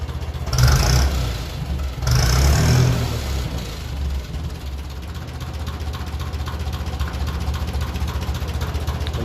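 A 1957 Ferguson 35 tractor running on TVO revs up briefly, then settles back to a steady, loud, close idle with a continuous low rumble.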